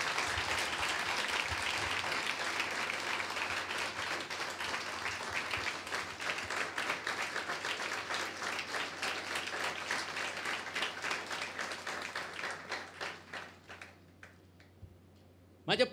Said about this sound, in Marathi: जरा टाळ्या वाजवा, एकदम खणखणीत टाळ्या वाजवा.